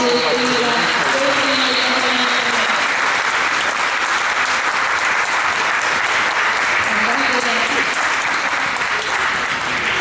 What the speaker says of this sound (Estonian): Teeme tugeva aplausi kõigile.